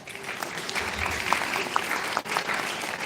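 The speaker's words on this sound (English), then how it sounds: "Can you please give your parents a standing ovation again? And round of applause because you turned to become very successful for today." Graduates and guests at a Grade 12 graduation give parents a standing ovation, a broad crowd of clapping with a few sharper individual claps and some faint voices mixed in.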